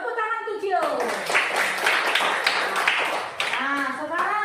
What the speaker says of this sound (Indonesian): Tepuk tangan tuh, Cio.